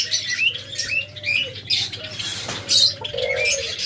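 Pet birds kept in pairs for sale, including grey diamond doves, chirp and tweet in quick, bright, overlapping calls at close range, with faint fluttering and no talking.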